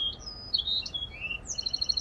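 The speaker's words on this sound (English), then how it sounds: "It's a wren." A wren sings outdoors in a park, a run of high, quick chirps and trills in short bursts that ends in a rapid rattling series, fairly close and clear over quiet background.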